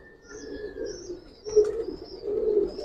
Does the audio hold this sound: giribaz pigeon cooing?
yes